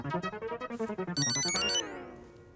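A phone rings with a rapid, bright electronic melody of pulsing tones that rise and swirl, then ends in a short chiming flourish and fades out, close and without speech.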